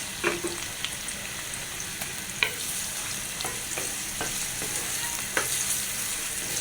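Two onions fry lightly in a pan, a soft continuous sizzle punctuated by scattered clicks and scrapes of stirring, close and fairly quiet with no voices.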